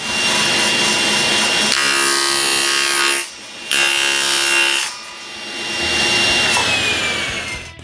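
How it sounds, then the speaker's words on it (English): A table saw trims T-track flush on a wooden jig base, its blade whining steadily through two long cuts separated by a brief dip as the wood clears, loud and close with no talk. "Now I cut them flush on the table saw."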